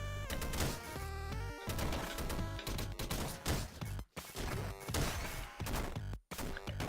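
Triple-shot gun fire in the video game Downwell crackles in dense, loud volleys of overlapping blasts and crashes, nearly continuous with two abrupt short silences.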